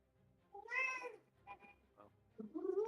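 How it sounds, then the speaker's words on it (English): Indoor pet cats meow several times, with a drawn-out call near the start, a few short mews in the middle and another rising meow at the end, fairly close and clear against a quiet room. "If you can hear my cats, I'm also sorry."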